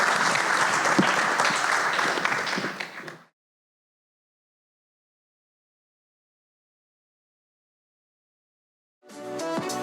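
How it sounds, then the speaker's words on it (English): Audience applause closing a panel discussion on investment opportunities in Indonesian agriculture at the IFRF 2025 forum; a dense, steady round of clapping for about three seconds cuts off into silence before a faint new sound enters near the end. "Please, a round of applause."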